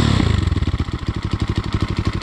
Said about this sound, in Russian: Просто сумасшедший мопед!